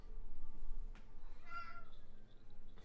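A house cat gives a single short meow, close and clear, over a low steady room hum.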